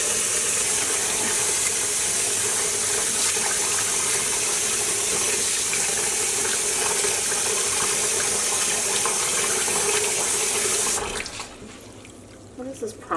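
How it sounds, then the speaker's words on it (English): A tap runs hard into a sink while dyed wool roving is rinsed, a loud, steady gush of water that continues for most of the stretch before it is shut off, leaving quieter handling noises. "I am going to keep rinsing this gorgeous roving until the water runs clear"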